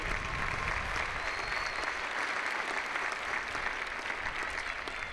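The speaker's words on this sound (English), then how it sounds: "let's give another round of applause to your family, especially to all of the fathers out there" A graduation crowd of families at a university commencement applauds in a steady, dense wash of clapping that holds evenly from start to finish.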